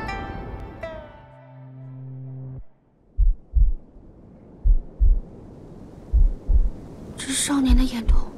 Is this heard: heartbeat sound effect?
yes